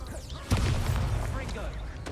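A Confringo blast spell goes off in Hogwarts Legacy: one sudden, fairly loud boom with a rumbling low tail that lingers under busy game sounds, with voices around it.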